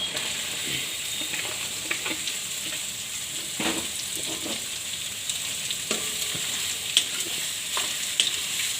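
Muskmelon pieces drop into hot oil in a pan and fry with a steady, close sizzle, while a spoon stirs and scrapes at intervals throughout.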